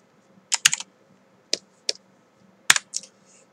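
Comma and period keys tapped on a computer keyboard, a few crisp clicks in small clusters separated by silence, close and clear.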